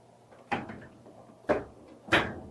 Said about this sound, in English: we're going to go ahead and get the lid closed here